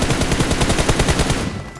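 Rapid automatic gunfire in a mobile shooter game, fired from a distance, sounds as a steady loud burst of repeated shots that cuts off near the end.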